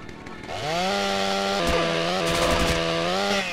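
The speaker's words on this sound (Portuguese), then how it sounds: "Bora pegar a serra elétrica aqui então." A chainsaw in the game GTA San Andreas revs up from idle into a loud, sustained buzzing whine, steady and close with slight pitch wobbles.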